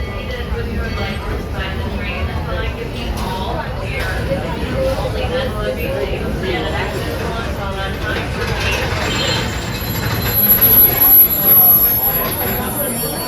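Walt Disney World Railroad train rolling through the Magic Kingdom near Frontierland Station, a steady continuous rumble of wheels and carriage noise with crowd babble, and a slight swell near the end.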